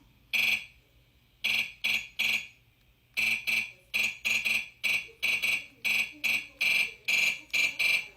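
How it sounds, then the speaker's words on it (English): An infrared remote control signal made audible: a rapid string of harsh electronic buzzing bursts at a steady pitch, coming in irregular pulsing groups with brief silent gaps between them. "these remote controls actually have an IR in the front, and this is what it sounds like"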